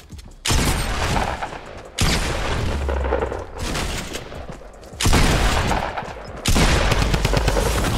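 Rapid bursts of gunfire in the battle royale game Fortnite, loud and close, with sustained automatic volleys broken by short pauses and punchy booming shots, no talking.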